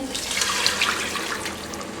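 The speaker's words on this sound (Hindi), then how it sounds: "2 छोटे गिलास इसमें पानी ऐड करेंगे।" Water poured into a cooking pot of spiced chickpea soup, a continuous close splashing gush that stays fairly loud and steady throughout, with no talking.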